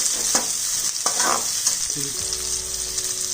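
Chopped onion and French beans sizzle loudly in a pan while being stirred, a dense continuous frying hiss with a few scraping strokes near the start.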